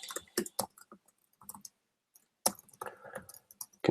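Computer keyboard typing during a live coding session, with bursts of close, crisp key clicks in uneven rhythm, short pauses between runs and a dense flurry near the end.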